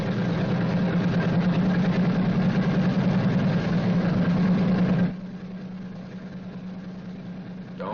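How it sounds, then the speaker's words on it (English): Large radial piston engine of a World War II B-29 bomber running in a steady, loud, rumbling drone, with the noise dropping noticeably partway through and continuing more quietly. "continue to prime intermittently until the engine is running smoothly"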